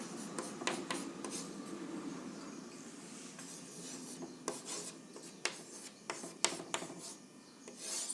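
Numbers are written by hand in quick, scratchy strokes, heard close and quiet with irregular taps and rubs and no talking.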